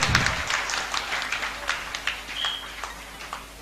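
Applause for scouts and guides at a presentation event, a burst of clapping that settles into scattered, uneven claps with a crowd murmuring underneath.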